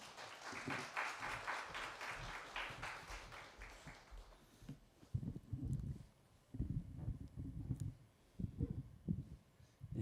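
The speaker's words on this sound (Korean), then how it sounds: "나오실 때 박수로 환영해 주시면 감사하겠습니다." A church congregation claps in steady applause for about four seconds, then it fades and a voice begins speaking in short phrases.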